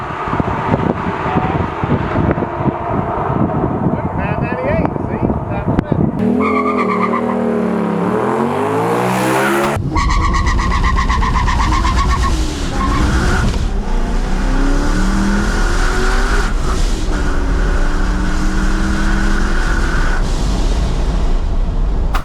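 A Holden ute accelerates hard at a track day, engine revving loudly as the tires spin and squeal, with a sharp change of pitch mid-run and sustained high-revving drive afterward; close and loud throughout.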